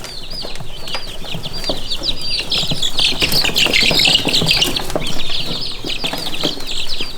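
Italiener bantam and Ancona bantam chicks cheep and cluck steadily close by, with the chirping growing denser in the middle and some soft wing flutters underneath.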